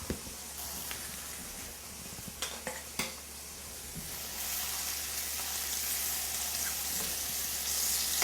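Hot whole butter sizzling in a pan as king oyster mushrooms with thyme are basted, a steady frying hiss with a few metallic clinks of a utensil, growing louder toward the end.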